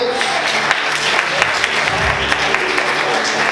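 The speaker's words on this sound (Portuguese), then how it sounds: "Você pode aplaudir Jesus por isso" Churchgoers applaud Jesus during a sermon, a full, sustained burst of clapping from the congregation with a few louder individual claps standing out.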